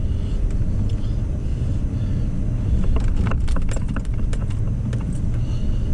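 A car drives through deep snow after a blizzard, a continuous loud rumble of engine and tires churning snow, with some crunching clicks midway.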